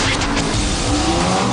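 A Ford GT sports car with a seven-speed dual-clutch gearbox roars loud and close, its engine note continuous and dense with a hint of tire noise throughout.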